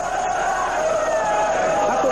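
Internacional supporters fill the packed Beira-Rio stadium for a 1989 Libertadores match against Bahia, their massed crowd noise a steady, loud roar with chanting voices blending throughout.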